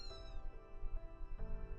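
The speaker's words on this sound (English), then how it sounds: "Is that a cat?" A cat in the game Fate/Grand Order gives one clear rising-then-falling meow at the start, heard over a soft sustained musical background.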